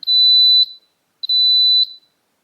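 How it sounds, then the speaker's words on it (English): Two long, loud electronic beeps from an Instant Pot signaling its yogurt function has finished, each steady and high-pitched, separated by a short silence. "Our yogurt function here just beeped, letting us know that it is finished"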